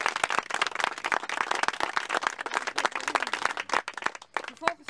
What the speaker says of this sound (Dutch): ik wil daar in ieder geval een stevig applaus voor hebben